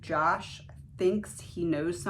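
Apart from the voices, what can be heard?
No everyday noise stands out behind the speech.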